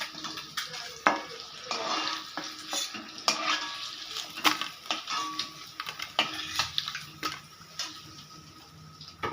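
Eggs for egg chilli fry in a pan amid a busy jumble of spatula scrapes and clinks of metal against the pan, over a faint sizzle, with no voices.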